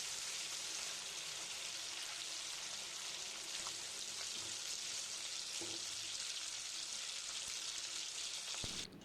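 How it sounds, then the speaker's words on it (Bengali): Catla fish heads frying in hot oil in a pan, a dense, steady crackling sizzle that runs unbroken and fairly quiet, with a few small clicks near the end. "মাছের মাথাগুলো আমি এভাবেই ভেজে নিচ্ছি"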